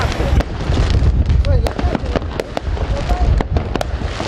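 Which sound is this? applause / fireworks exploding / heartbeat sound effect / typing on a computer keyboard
fireworks exploding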